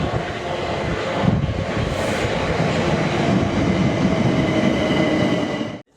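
South Western Railway train for Horsham at a station, a loud steady rumble of rolling stock running throughout before cutting off abruptly at the end.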